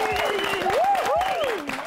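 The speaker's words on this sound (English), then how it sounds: "You can give yourselves a round of applause." Contestants on a cooking competition show applaud together during a dessert-themed episode, a steady burst of clapping lasting under two seconds, mixed with voices and background music.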